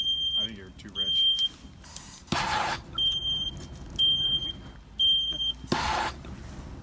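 A smoke detector alarm sounds in repeated high-pitched beeping bursts in a steady on-off pattern, while a car's engine runs and people speak.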